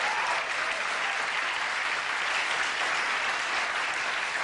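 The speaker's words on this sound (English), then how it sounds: "you can applaud" Steady, dense applause from a television studio audience at a late-night talk show, filling the room evenly and continuously at moderate volume with no voices rising above it.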